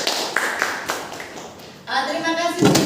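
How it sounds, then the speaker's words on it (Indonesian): A classroom of school children applauds a student called Cindy, with a short patter of claps that swells into a louder burst near the end, mixed with a teacher's voice talking. "Beri aplaus untuk Cindy."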